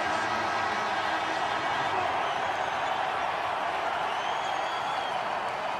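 Steady roar of a basketball arena crowd at the Big Ten championship, a continuous broadband wash of voices and cheering filling the whole stretch, with commentary talk running over it.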